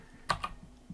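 A few keystrokes on a computer keyboard while code is entered, two sharp close clicks followed by softer taps against quiet room noise.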